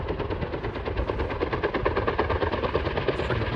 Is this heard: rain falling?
no